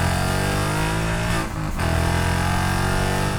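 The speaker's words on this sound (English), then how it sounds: "it's a unique tone, and one that I think is unique to this particular exhaust" A Ford Mustang GT with a Hurst Elite exhaust using a packed muffler rumbles with a deep, throaty tone, loud and close, revving steadily with a brief dip in the middle before building again.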